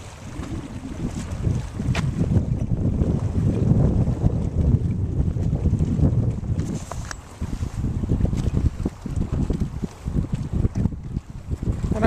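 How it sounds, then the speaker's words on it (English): Water laps against the shore at high tide, low rolling splashes mixed with heavy wind buffeting the microphone, continuous and close, with no voices. "Can you hear the water lapping?"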